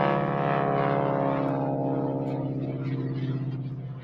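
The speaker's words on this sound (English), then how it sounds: "They got these, some sort of old World War II trainer flying around up there making racket." Old World War II trainer airplane flying overhead, a loud steady propeller drone with a strong harmonic hum that slowly fades and pulses toward the end.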